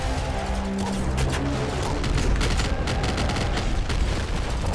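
Heavy grenade launcher explosions in the top-down shooter Nuclear Throne come as a rapid, loud string of crackling booms and bursts that fill the whole moment without any talking.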